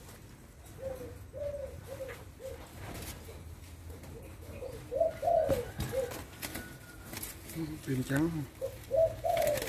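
Thai spotted doves cooing in repeated soft rhythmic phrases from several birds, close by, with someone talking intermittently over them.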